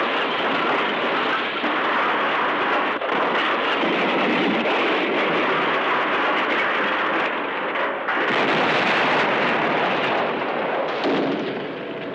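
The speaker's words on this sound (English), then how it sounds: "There's been an accident, an explosion." A sustained, roaring blast from Death Race 2000 rumbles and crackles at close range for the whole stretch, with a brief dip around the middle before surging loud again, no voices over it.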